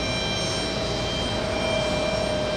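JetBlue airliner jet engines at JFK airport, a steady, loud broadband roar with a constant whine running underneath throughout, no voices.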